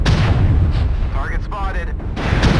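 Artillery strikes fire in a mech combat video game, a dense, sustained roar of booming blasts filling the whole clip while a synthetic voice speaks briefly over it.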